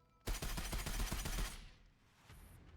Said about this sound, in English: Heavy gunfire sweeps toward Brammet hiding in place, forcing her to dive for cover.